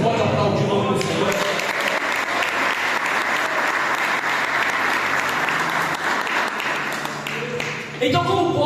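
A church congregation applauds during a worship service, a thick, sustained round of clapping, with voices heard briefly before the clapping swells and again as it ends.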